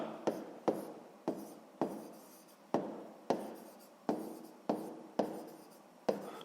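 A pen writing down a math answer for a sixth-grade map-scale exercise, heard as a series of about ten close, crisp strokes and taps in an irregular rhythm, with no talk.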